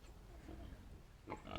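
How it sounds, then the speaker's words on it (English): Hereford pigs grunting in farm pens, a few low grunts blending into a steady outdoor rumble, with a brief louder snort near the end. "Those Herefords sure are good looking pigs."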